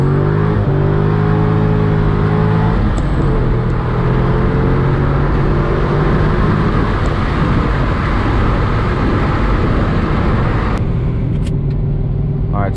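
Supercharged C6 Corvette accelerates hard from low speed with its exhaust valves open, a loud, continuous roaring drone that climbs in pitch through the gears, heard from inside the car with no talking.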